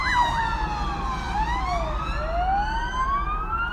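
A loud police siren wails continuously, its pitch sweeping up and down over steady road rumble.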